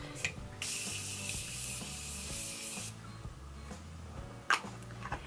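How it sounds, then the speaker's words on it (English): A steady hiss of makeup setting spray being pressed for about two seconds, close up, over soft background music. "now I'm just going to take some setting spray and set my face"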